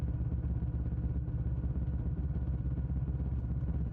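A motorcycle engine on a midnight ride along an empty road gives a steady, low, continuous drone that is loud and unbroken, with a slight rough flutter.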